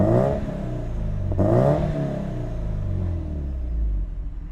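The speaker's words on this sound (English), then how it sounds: "Alright, go ahead and give you a couple of revs." A 2005 Subaru WRX STi's EJ207 boxer engine revs twice, each rise climbing sharply and falling back to a deep, steady idle rumble, loud and close.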